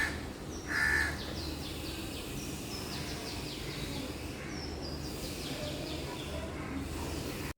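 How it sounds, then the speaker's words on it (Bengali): Crows caw intermittently in the distance over a steady outdoor hum heard from a balcony, with a few sharper calls standing out early on. "আমাদের বারান্দায় বসলে সবসময় এরকম পাখির কিচিরমিচির শব্দ শোনা যায়"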